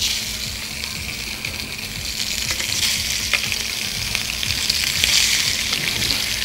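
Burger patties frying in a pan for cheeseburgers, a steady close sizzle with stirring clatter and crackle running throughout, with no voices.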